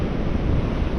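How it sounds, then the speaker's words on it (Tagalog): Waves surge and wash against a rocky shore while wind buffets the microphone, a loud, steady, dense roar with no pauses across about a second. "Lalo pang tataas ang alon."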